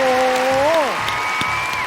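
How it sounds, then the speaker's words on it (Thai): Studio audience on a Thai TV game show applauds to welcome a contestant's opponent, a dense steady wash of clapping under a loud gliding tonal sound effect that bends downward, then a higher tone near the end. "ขอเสียงปรบมือต้อนรับคู่ต่อสู้ของน้องแบมครับ"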